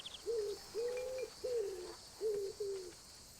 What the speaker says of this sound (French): il y a un oiseau spécial. Il a un cri